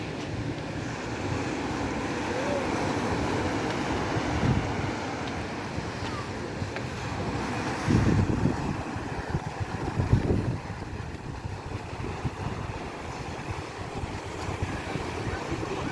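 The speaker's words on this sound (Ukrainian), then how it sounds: "А море сьогодні хвилюється." Rough Black Sea waves wash onto an Odesa beach in a continuous surf roar mixed with wind buffeting the microphone, swelling in a few stronger surges.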